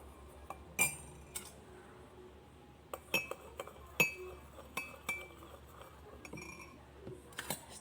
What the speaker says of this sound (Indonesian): Setelah itu kita aduk semuanya yang telah tersedia di wadah masing-masing.